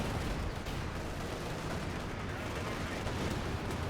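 Strafing run gunfire from an attacking aircraft in Company of Heroes 2, a dense, continuous roar of rapid shots and rumbling impacts that holds at steady loudness throughout, with no clear breaks.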